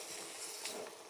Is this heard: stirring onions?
yes